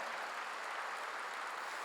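A church congregation applauding during a sermon, producing a dense, even clatter of many hands clapping steadily throughout, with no talking over it.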